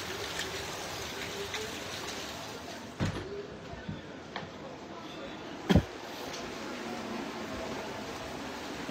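Steady heavy rain pours down in a continuous hiss, broken by a couple of short, sharp knocks, with no voices.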